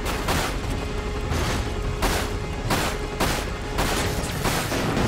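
Rapid, repeated gunfire from the PS2 shooter Dirge of Cerberus, part of Final Fantasy 7, fills the whole span in loud bursts with booming impacts and a steady game soundtrack underneath.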